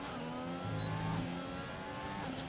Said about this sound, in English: So it looks like he's pitting.